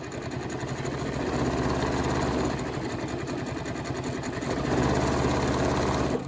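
A sewing machine stitching a variable zigzag runs steadily and close, with a continuous loud mechanical whir and rapid rhythmic needle chatter that swells slightly near the end.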